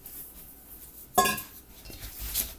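A utensil stirring sugar into a creamy mixture for a Sicilian Easter bread, one sharp metallic clink against the bowl followed by softer scraping, close and with no talk.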